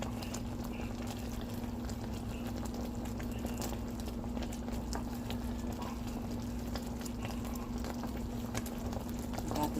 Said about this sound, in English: Continues to boil.